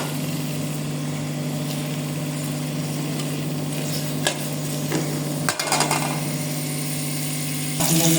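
Onions frying in oil in a pan for a fenugreek chicken dish give a steady low sizzle with a background hum, a few clinks and stirring scrapes near the middle, then a louder burst at the end.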